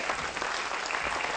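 Applause for a guest speaker at an evening talk on the history of earthquakes in Friuli, a short burst of close, dense clapping from a room full of listeners.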